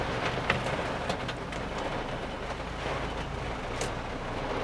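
Heavy rain pours steadily during a drive, a dense loud hiss of drops on the car with scattered sharper taps, no voices.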